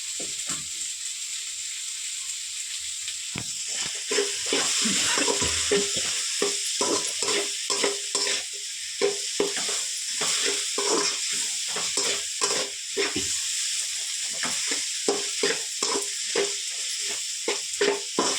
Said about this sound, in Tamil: வெங்காயம் தக்காளி எல்லாம் நல்லா வதங்கிடணும்